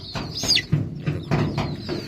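Chickens sick with fowl pox cluck up close in a quick series of short, nasal calls over about two seconds.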